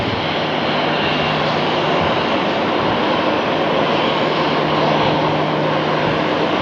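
An airliner touches down firmly on the runway at Phoenix Sky Harbor airport, heard as a loud, continuous roar of engine and rushing air that holds steady throughout.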